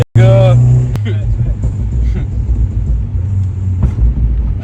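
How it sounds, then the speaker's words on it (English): A Honda Civic drives with a steady, loud engine rumble and road roar close by, opening with a brief tonal horn-like blare and followed by a few faint clunks. "I'm just driving my f***ing Civic"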